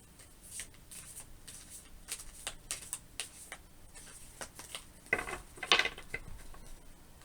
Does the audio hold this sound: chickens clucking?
no